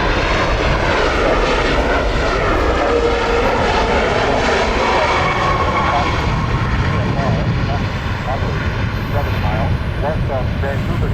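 A fixed-wing airliner at Vancouver International Airport roars steadily and loudly throughout, a sustained jet engine rumble with a gradually shifting whine.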